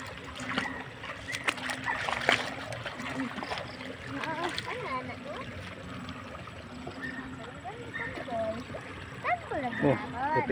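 Floodwater overflowing across a flooded rice paddy and road, splashing and trickling steadily at close range while people talk over it.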